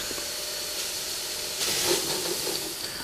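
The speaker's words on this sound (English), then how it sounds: "It's a good idea always to check that the safety valves lift." Live steam gauge 1 model locomotive blowing off through its safety valves at about 60 psi, a steady close hiss that swells louder partway through with a faint spitting edge, heard without talk.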